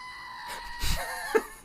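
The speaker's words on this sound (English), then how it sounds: "It's a screaming goat toy." A screaming goat toy, pressed by hand, lets out a short, strained bleating scream that rises to a sharp peak, moderately loud and heard alone.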